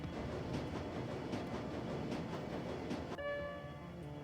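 Subway train in the video game Shadowrun Returns: Dragonfall, a steady low rumble and clatter of the moving carriages that stops abruptly, followed by a short ringing chime tone, heard alone and fairly quiet.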